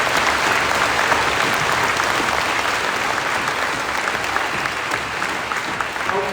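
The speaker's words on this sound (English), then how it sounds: "Can we give an applause for the veterans that are in here?" Audience at a Veterans Day school assembly applauding veterans, sustained loud clapping from a crowded hall, dense and even for several seconds.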